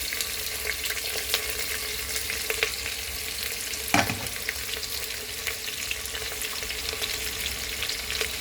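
Onion and tomato fry in a pan for mutton pulao, a steady close hiss and crackle of sizzling oil with a brief clank of a utensil midway.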